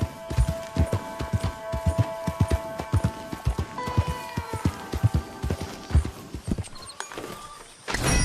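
Arabian horse hooves in Red Dead Redemption 2 clip-clop in a quick, regular trotting rhythm, loud and close, with occasional jingling tack and a brief whinny-like sound near the end over soft background music.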